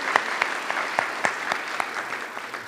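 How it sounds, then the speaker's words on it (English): An audience gives a short, steady round of applause, a moderate wash of many hands clapping with a few distinct sharper claps standing out. "we'll give him a round of applause for that"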